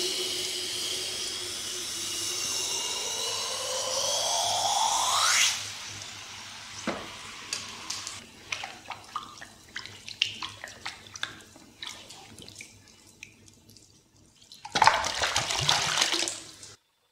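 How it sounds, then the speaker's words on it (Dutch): A hot raku-fired ceramic piece plunged into water gives a loud, steady hiss lasting about five seconds, then quieter sporadic crackles and splashes, and a final burst of rushing water near the end. "Daarna dompelen we het werk in het water."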